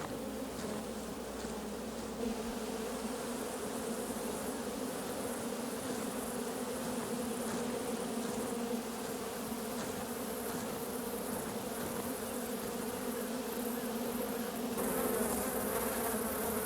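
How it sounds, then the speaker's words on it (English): A swarm of honey bees hums around a honey tree in a swamp. The buzzing is dense and continuous, fairly close, and holds steady the whole time with no voices. "a group of bees have left and are swarming around the second queen"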